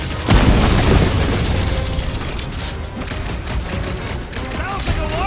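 Rapid bursts of gunfire and booming blasts in a busy battle in Marvel's Guardians of the Galaxy on PS5, loud and dense, with voices and effects mixed in.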